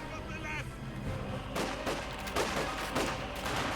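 Maxim machine gun and other gunfire in the video game Company of Heroes 2, several sharp bursts and shots in the second half over a low battle din, with voices talking throughout.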